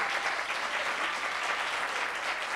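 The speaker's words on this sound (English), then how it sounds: "a round of applause." A studio audience at a 2017 Atlanta mayoral candidates' forum applauds in a steady, dense wash of clapping that holds at an even level for the whole stretch, with no talking over it.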